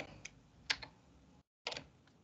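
Typing on a computer keyboard, with a few quiet, scattered key clicks, a short pause of silence, then a quick cluster of keystrokes, all fairly faint and with no talking.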